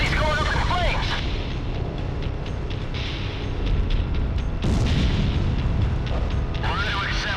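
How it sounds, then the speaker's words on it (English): Heavy bombing explosions in the Ace Combat Zero air-combat game, deep continuous rumbling booms over a city in flames, loud and sustained, with a voice speaking over the din. "I have to stop these bombings. The city's going up in flames."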